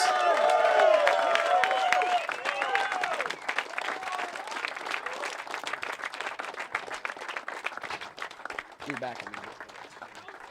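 A crowd at the 2014 Sport Kart Grand Nationals podium breaks into loud applause for the champion, with whistles and cheers. The clapping thins and fades across several seconds while voices carry over it toward the end.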